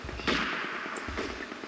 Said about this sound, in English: They're firing across the whole map.